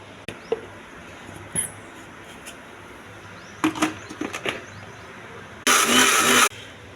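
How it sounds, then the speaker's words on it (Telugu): A kitchen mixer grinder jar pulses once to coarsely chop cucumber for chutney: after a few quiet handling clicks, one loud whirring burst lasts under a second and stops abruptly. "మిక్సీ జార్లో వేసి ఒకసారి ఒక్క ముక్కగా చేసుకోవాలండి."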